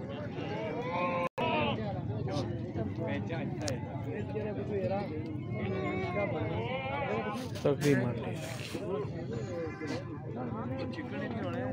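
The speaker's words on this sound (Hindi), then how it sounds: "ये बकरा काला वाला खूबसूरत बकरा है जी" Goats bleat at a crowded livestock market in Dadyal, Kashmir, their cries rising repeatedly through steady, close talk from traders and buyers, with a sharp knock partway through.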